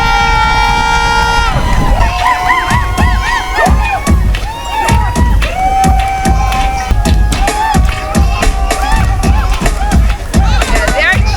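A large crowd cheers and shouts at a school sports day race in the Cayman Islands, loud and continuous, with excited children's voices, whistles and horn blasts mixed in over a busy, echoing din.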